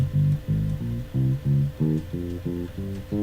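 Bass guitar working through a minor scale pattern, about ten plucked low notes in a steady, even rhythm, each ringing briefly before the next, played close and clear with no talking.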